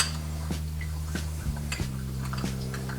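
Creole Kick seasoning and a fish and seafood lemon seasoning being stirred together in a small dish, several light metallic clinks and taps of a utensil spaced about half a second apart over a steady low hum.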